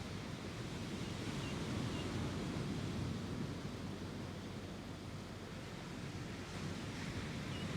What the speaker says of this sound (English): Waves drawing into the shoreline